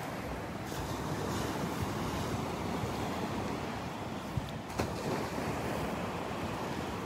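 Ocean surf rolls steadily onto Delnor-Wiggins beach the morning after a storm, a constant broad roar mixed with wind buffeting the microphone, with no voices.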